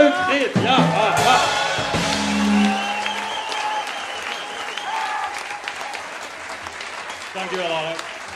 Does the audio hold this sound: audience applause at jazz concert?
yes